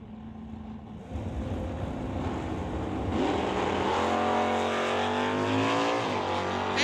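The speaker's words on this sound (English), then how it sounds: "racing Burt Worrell at the 1969 Dodge Dart, dialed at a 1010" A 1969 Dodge Dart at a drag race, heard as a loud engine whose pitch climbs steadily as it revs and pulls away, over a steady roar with no talk.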